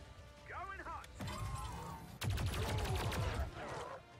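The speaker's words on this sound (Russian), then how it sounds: "турель под контролем сделает два точных выстрела по адвентам" Synthetic gunfire from the game XCOM 2 crackles in a rapid volley, with electronic effects around it and someone talking over the action.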